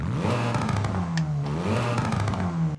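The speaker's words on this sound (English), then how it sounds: "So here's the stock engine." The stock engine of a Hyundai Kona N revs in the game Forza Horizon 5, rising and falling in two smooth swells with a steady droning tone throughout.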